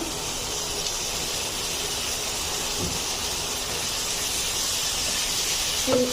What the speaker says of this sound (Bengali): এখন আমি দিয়ে দিচ্ছি চিংড়ি মাছগুলা